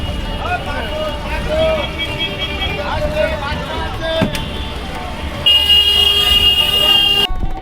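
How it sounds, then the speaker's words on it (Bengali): Bus pulling out of the Kakdwip bus stand on a rural road: a continuous engine rumble with short horn toots and a louder sustained horn near the end, under a person talking. "আমাদের বাস ছেড়ে দিয়েছে কাকদ্বীপ বাস স্ট্যান্ড থেকে"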